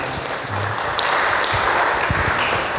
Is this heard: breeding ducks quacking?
no